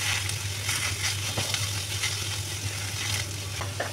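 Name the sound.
frying bottle gourd in ghee with cardamom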